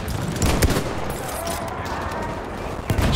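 Rifle fire in the Battlefield 1 video game cracks amid dense battlefield gunfire, sharp shots standing out near the start and end over a continuous noisy wash of distant shooting.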